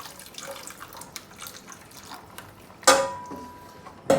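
Water poured into a pan of salmon fish head gravy, a short splashing pour rising suddenly near the end after a quiet background, close and fairly loud.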